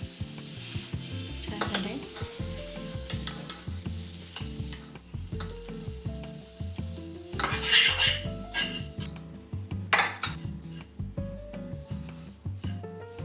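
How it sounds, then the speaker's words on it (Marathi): Dates and figs sautéed in ghee for dry fruit ladoo, a metal spoon stirring and scraping the pan in a steady busy rhythm over a soft sizzle, close and continuous with no talk. "आता हे आपण खजूर आणि अंजीर लोक आपण तुपावर चांगलं परतून घेऊ"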